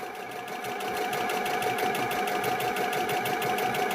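Sewing machine stitching a quarter-inch quilting seam, a fast rhythmic mechanical chatter that starts softly and settles into a steady, close, even run.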